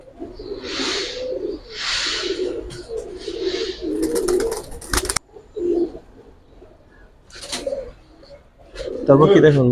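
Giribaz pigeons coo in repeated low, throaty phrases close by, interrupted by rustling and wing sounds.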